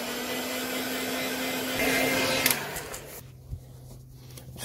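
A heat gun heat-sets paint on a custom fishing lure, blowing a loud, steady whirring hiss that cuts off about two-thirds through and leaves a faint lower hum behind.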